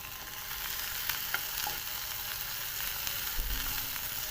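Potato and cabbage for a Spanish omelette are stir-fried and mixed in a hot pan, a continuous close sizzle broken by a few scraping stirs and light clinks, with no voices.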